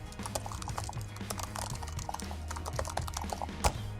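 Rapid typing on the backlit keyboard of an HP Envy x360 13-inch 2-in-1 laptop, a dense run of loud, clacky keystrokes close to the microphone, with one sharper key press near the end.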